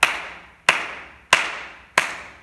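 Four sharp, evenly spaced hand claps ring out close and loud, each followed by a short room echo, with no talking in between.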